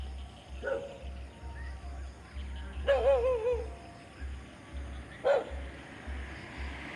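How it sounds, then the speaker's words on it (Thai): Dogs barking at dusk on a quiet residential street, heard from a distance, with two short bursts of several barks separated by a pause over faint background hum and low murmuring. "หมาเขาก็เลยเห่านะคะ"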